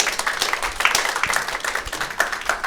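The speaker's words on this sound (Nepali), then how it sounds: "ह्याप्पी क्लबको लागि पनि एकचोटि ताली बजाइदिनु" A stand-up comedy crowd in Nepal claps for Happy Club, a dense, steady patter of many hands that holds at an even level for the whole short stretch.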